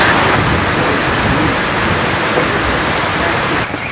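Steady thunderstorm rain pours down in rural northern Shaanxi, a dense continuous hiss of drops on surfaces, loud and unbroken for nearly the whole stretch before easing slightly at the very end.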